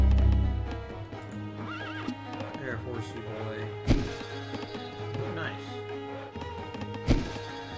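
A horse in Rise of Nations gives several whinnies and neighs over clip-clopping hooves and game music, with a few heavy thumps, as someone talks throughout.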